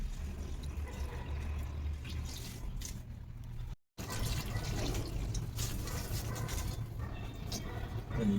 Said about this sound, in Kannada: ನಾನು ಮಾಡಿರೋ ಕೆಲಸ ನನ್ನ ಗಿಡಗಳಿಗೆಲ್ಲ ನೀರು ಹಾಕೋದು